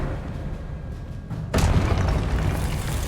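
A sudden deep boom of the Expelliarmus spell effect in Hogwarts Legacy strikes midway, with a rumbling blast that sustains loudly after a quieter lead-in.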